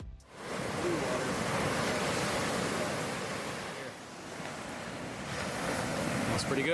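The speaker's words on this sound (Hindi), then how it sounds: "किनारे से टकराती हुई लहरें" Ocean waves crash continuously onto a beach shore of glowing blue sand lined with palm trees, a loud, steady wash of surf with wind noise over the microphone.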